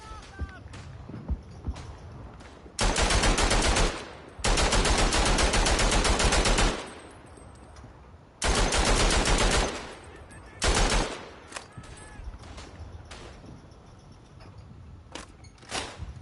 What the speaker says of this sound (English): I love the machine guns in this game.